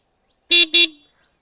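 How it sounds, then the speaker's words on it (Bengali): A Yamaha XSR 155 motorcycle horn sounds two short, loud honks in quick succession against silence. "এই যে হর্নটা প্রথমে আমি আপনাদেরকে শুনিয়ে দিচ্ছি।"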